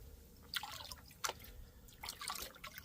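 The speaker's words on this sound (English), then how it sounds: "I'm just literally lifting it to let the water take the light stuff off the top." Water rinses light material off the top of a gold prospecting pan, giving a few soft splashes and drips at irregular intervals over faint background noise, close and quiet, with no speech.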